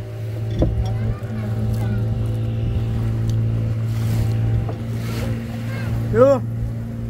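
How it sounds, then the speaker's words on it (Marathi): A motorboat engine drones steadily as the boat sets off from the beach at Malvan on the Konkan coast, a loud low hum with a few knocks and a brief rising whine near the end. "चला बोट निघाली आमच्या आता जायला."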